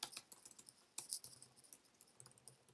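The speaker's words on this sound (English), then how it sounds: "if I can type today" Quiet typing on a computer keyboard while writing an SQL query, a faint, uneven patter of key clicks with small bursts and short pauses, heard alone against a low room hum.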